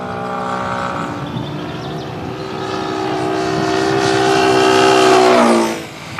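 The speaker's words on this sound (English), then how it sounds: "Now listen carefully to the sound of the engine." A fast engine-driven vehicle passes close by, its steady tonal engine note swelling as it approaches and then dropping sharply in pitch as it moves away, fading quickly at the end.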